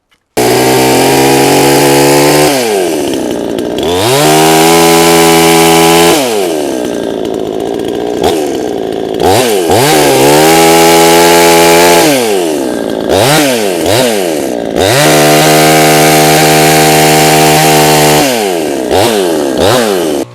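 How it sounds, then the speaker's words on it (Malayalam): A Kisan Kraft recoil-start chainsaw running on oil-mixed fuel, very loud and close, its engine idling and then revving up and down repeatedly in rising and falling surges. "കിസാൻ ക്രാഫ്റ്റിൻ്റെ ചെയിൻസോ ആണ് വരുന്നത്"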